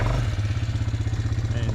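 A motorbike rides across a 10 acre block, its engine a loud close pulsing rumble with a steady beat, wind buffeting the microphone, and a voice faintly present underneath.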